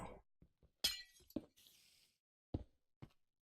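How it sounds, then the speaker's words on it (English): Glass blocks break in Minecraft with several sharp shattering crashes and small clinks and knocks, spaced irregularly and fairly quiet. "And we're going to break the glass out of this one as well."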